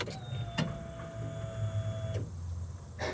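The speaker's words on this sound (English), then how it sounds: "So let's go ahead and get the fuel pump running." An electric fuel pump on a Polaris Ranger runs with a steady whine and hum for about two seconds, then cuts off, leaving low background hum.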